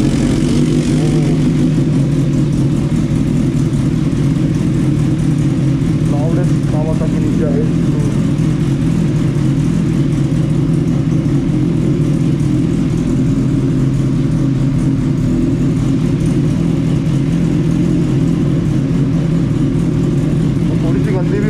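A Kawasaki Ninja H2 motorcycle started after sitting unused for many days, its engine running loud and close with a steady, heavy drone that barely varies throughout.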